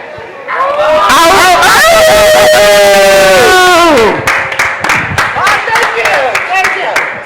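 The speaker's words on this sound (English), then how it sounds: "We got applause. We got applause." A studio audience gives a loud, close burst of cheering and whooping with sustained high shouts, settling into clapping and applause toward the end.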